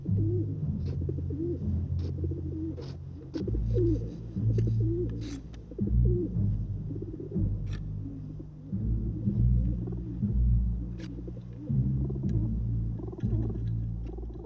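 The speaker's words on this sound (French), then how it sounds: "tendez l'oreille parce qu'il y a des pigeons qui roucoulent" Pigeons coo in soft, low, rolling calls that repeat throughout, blended with a quiet, low orchestral passage of Handel's Sarabande, with occasional faint clicks over a steady bed of sound.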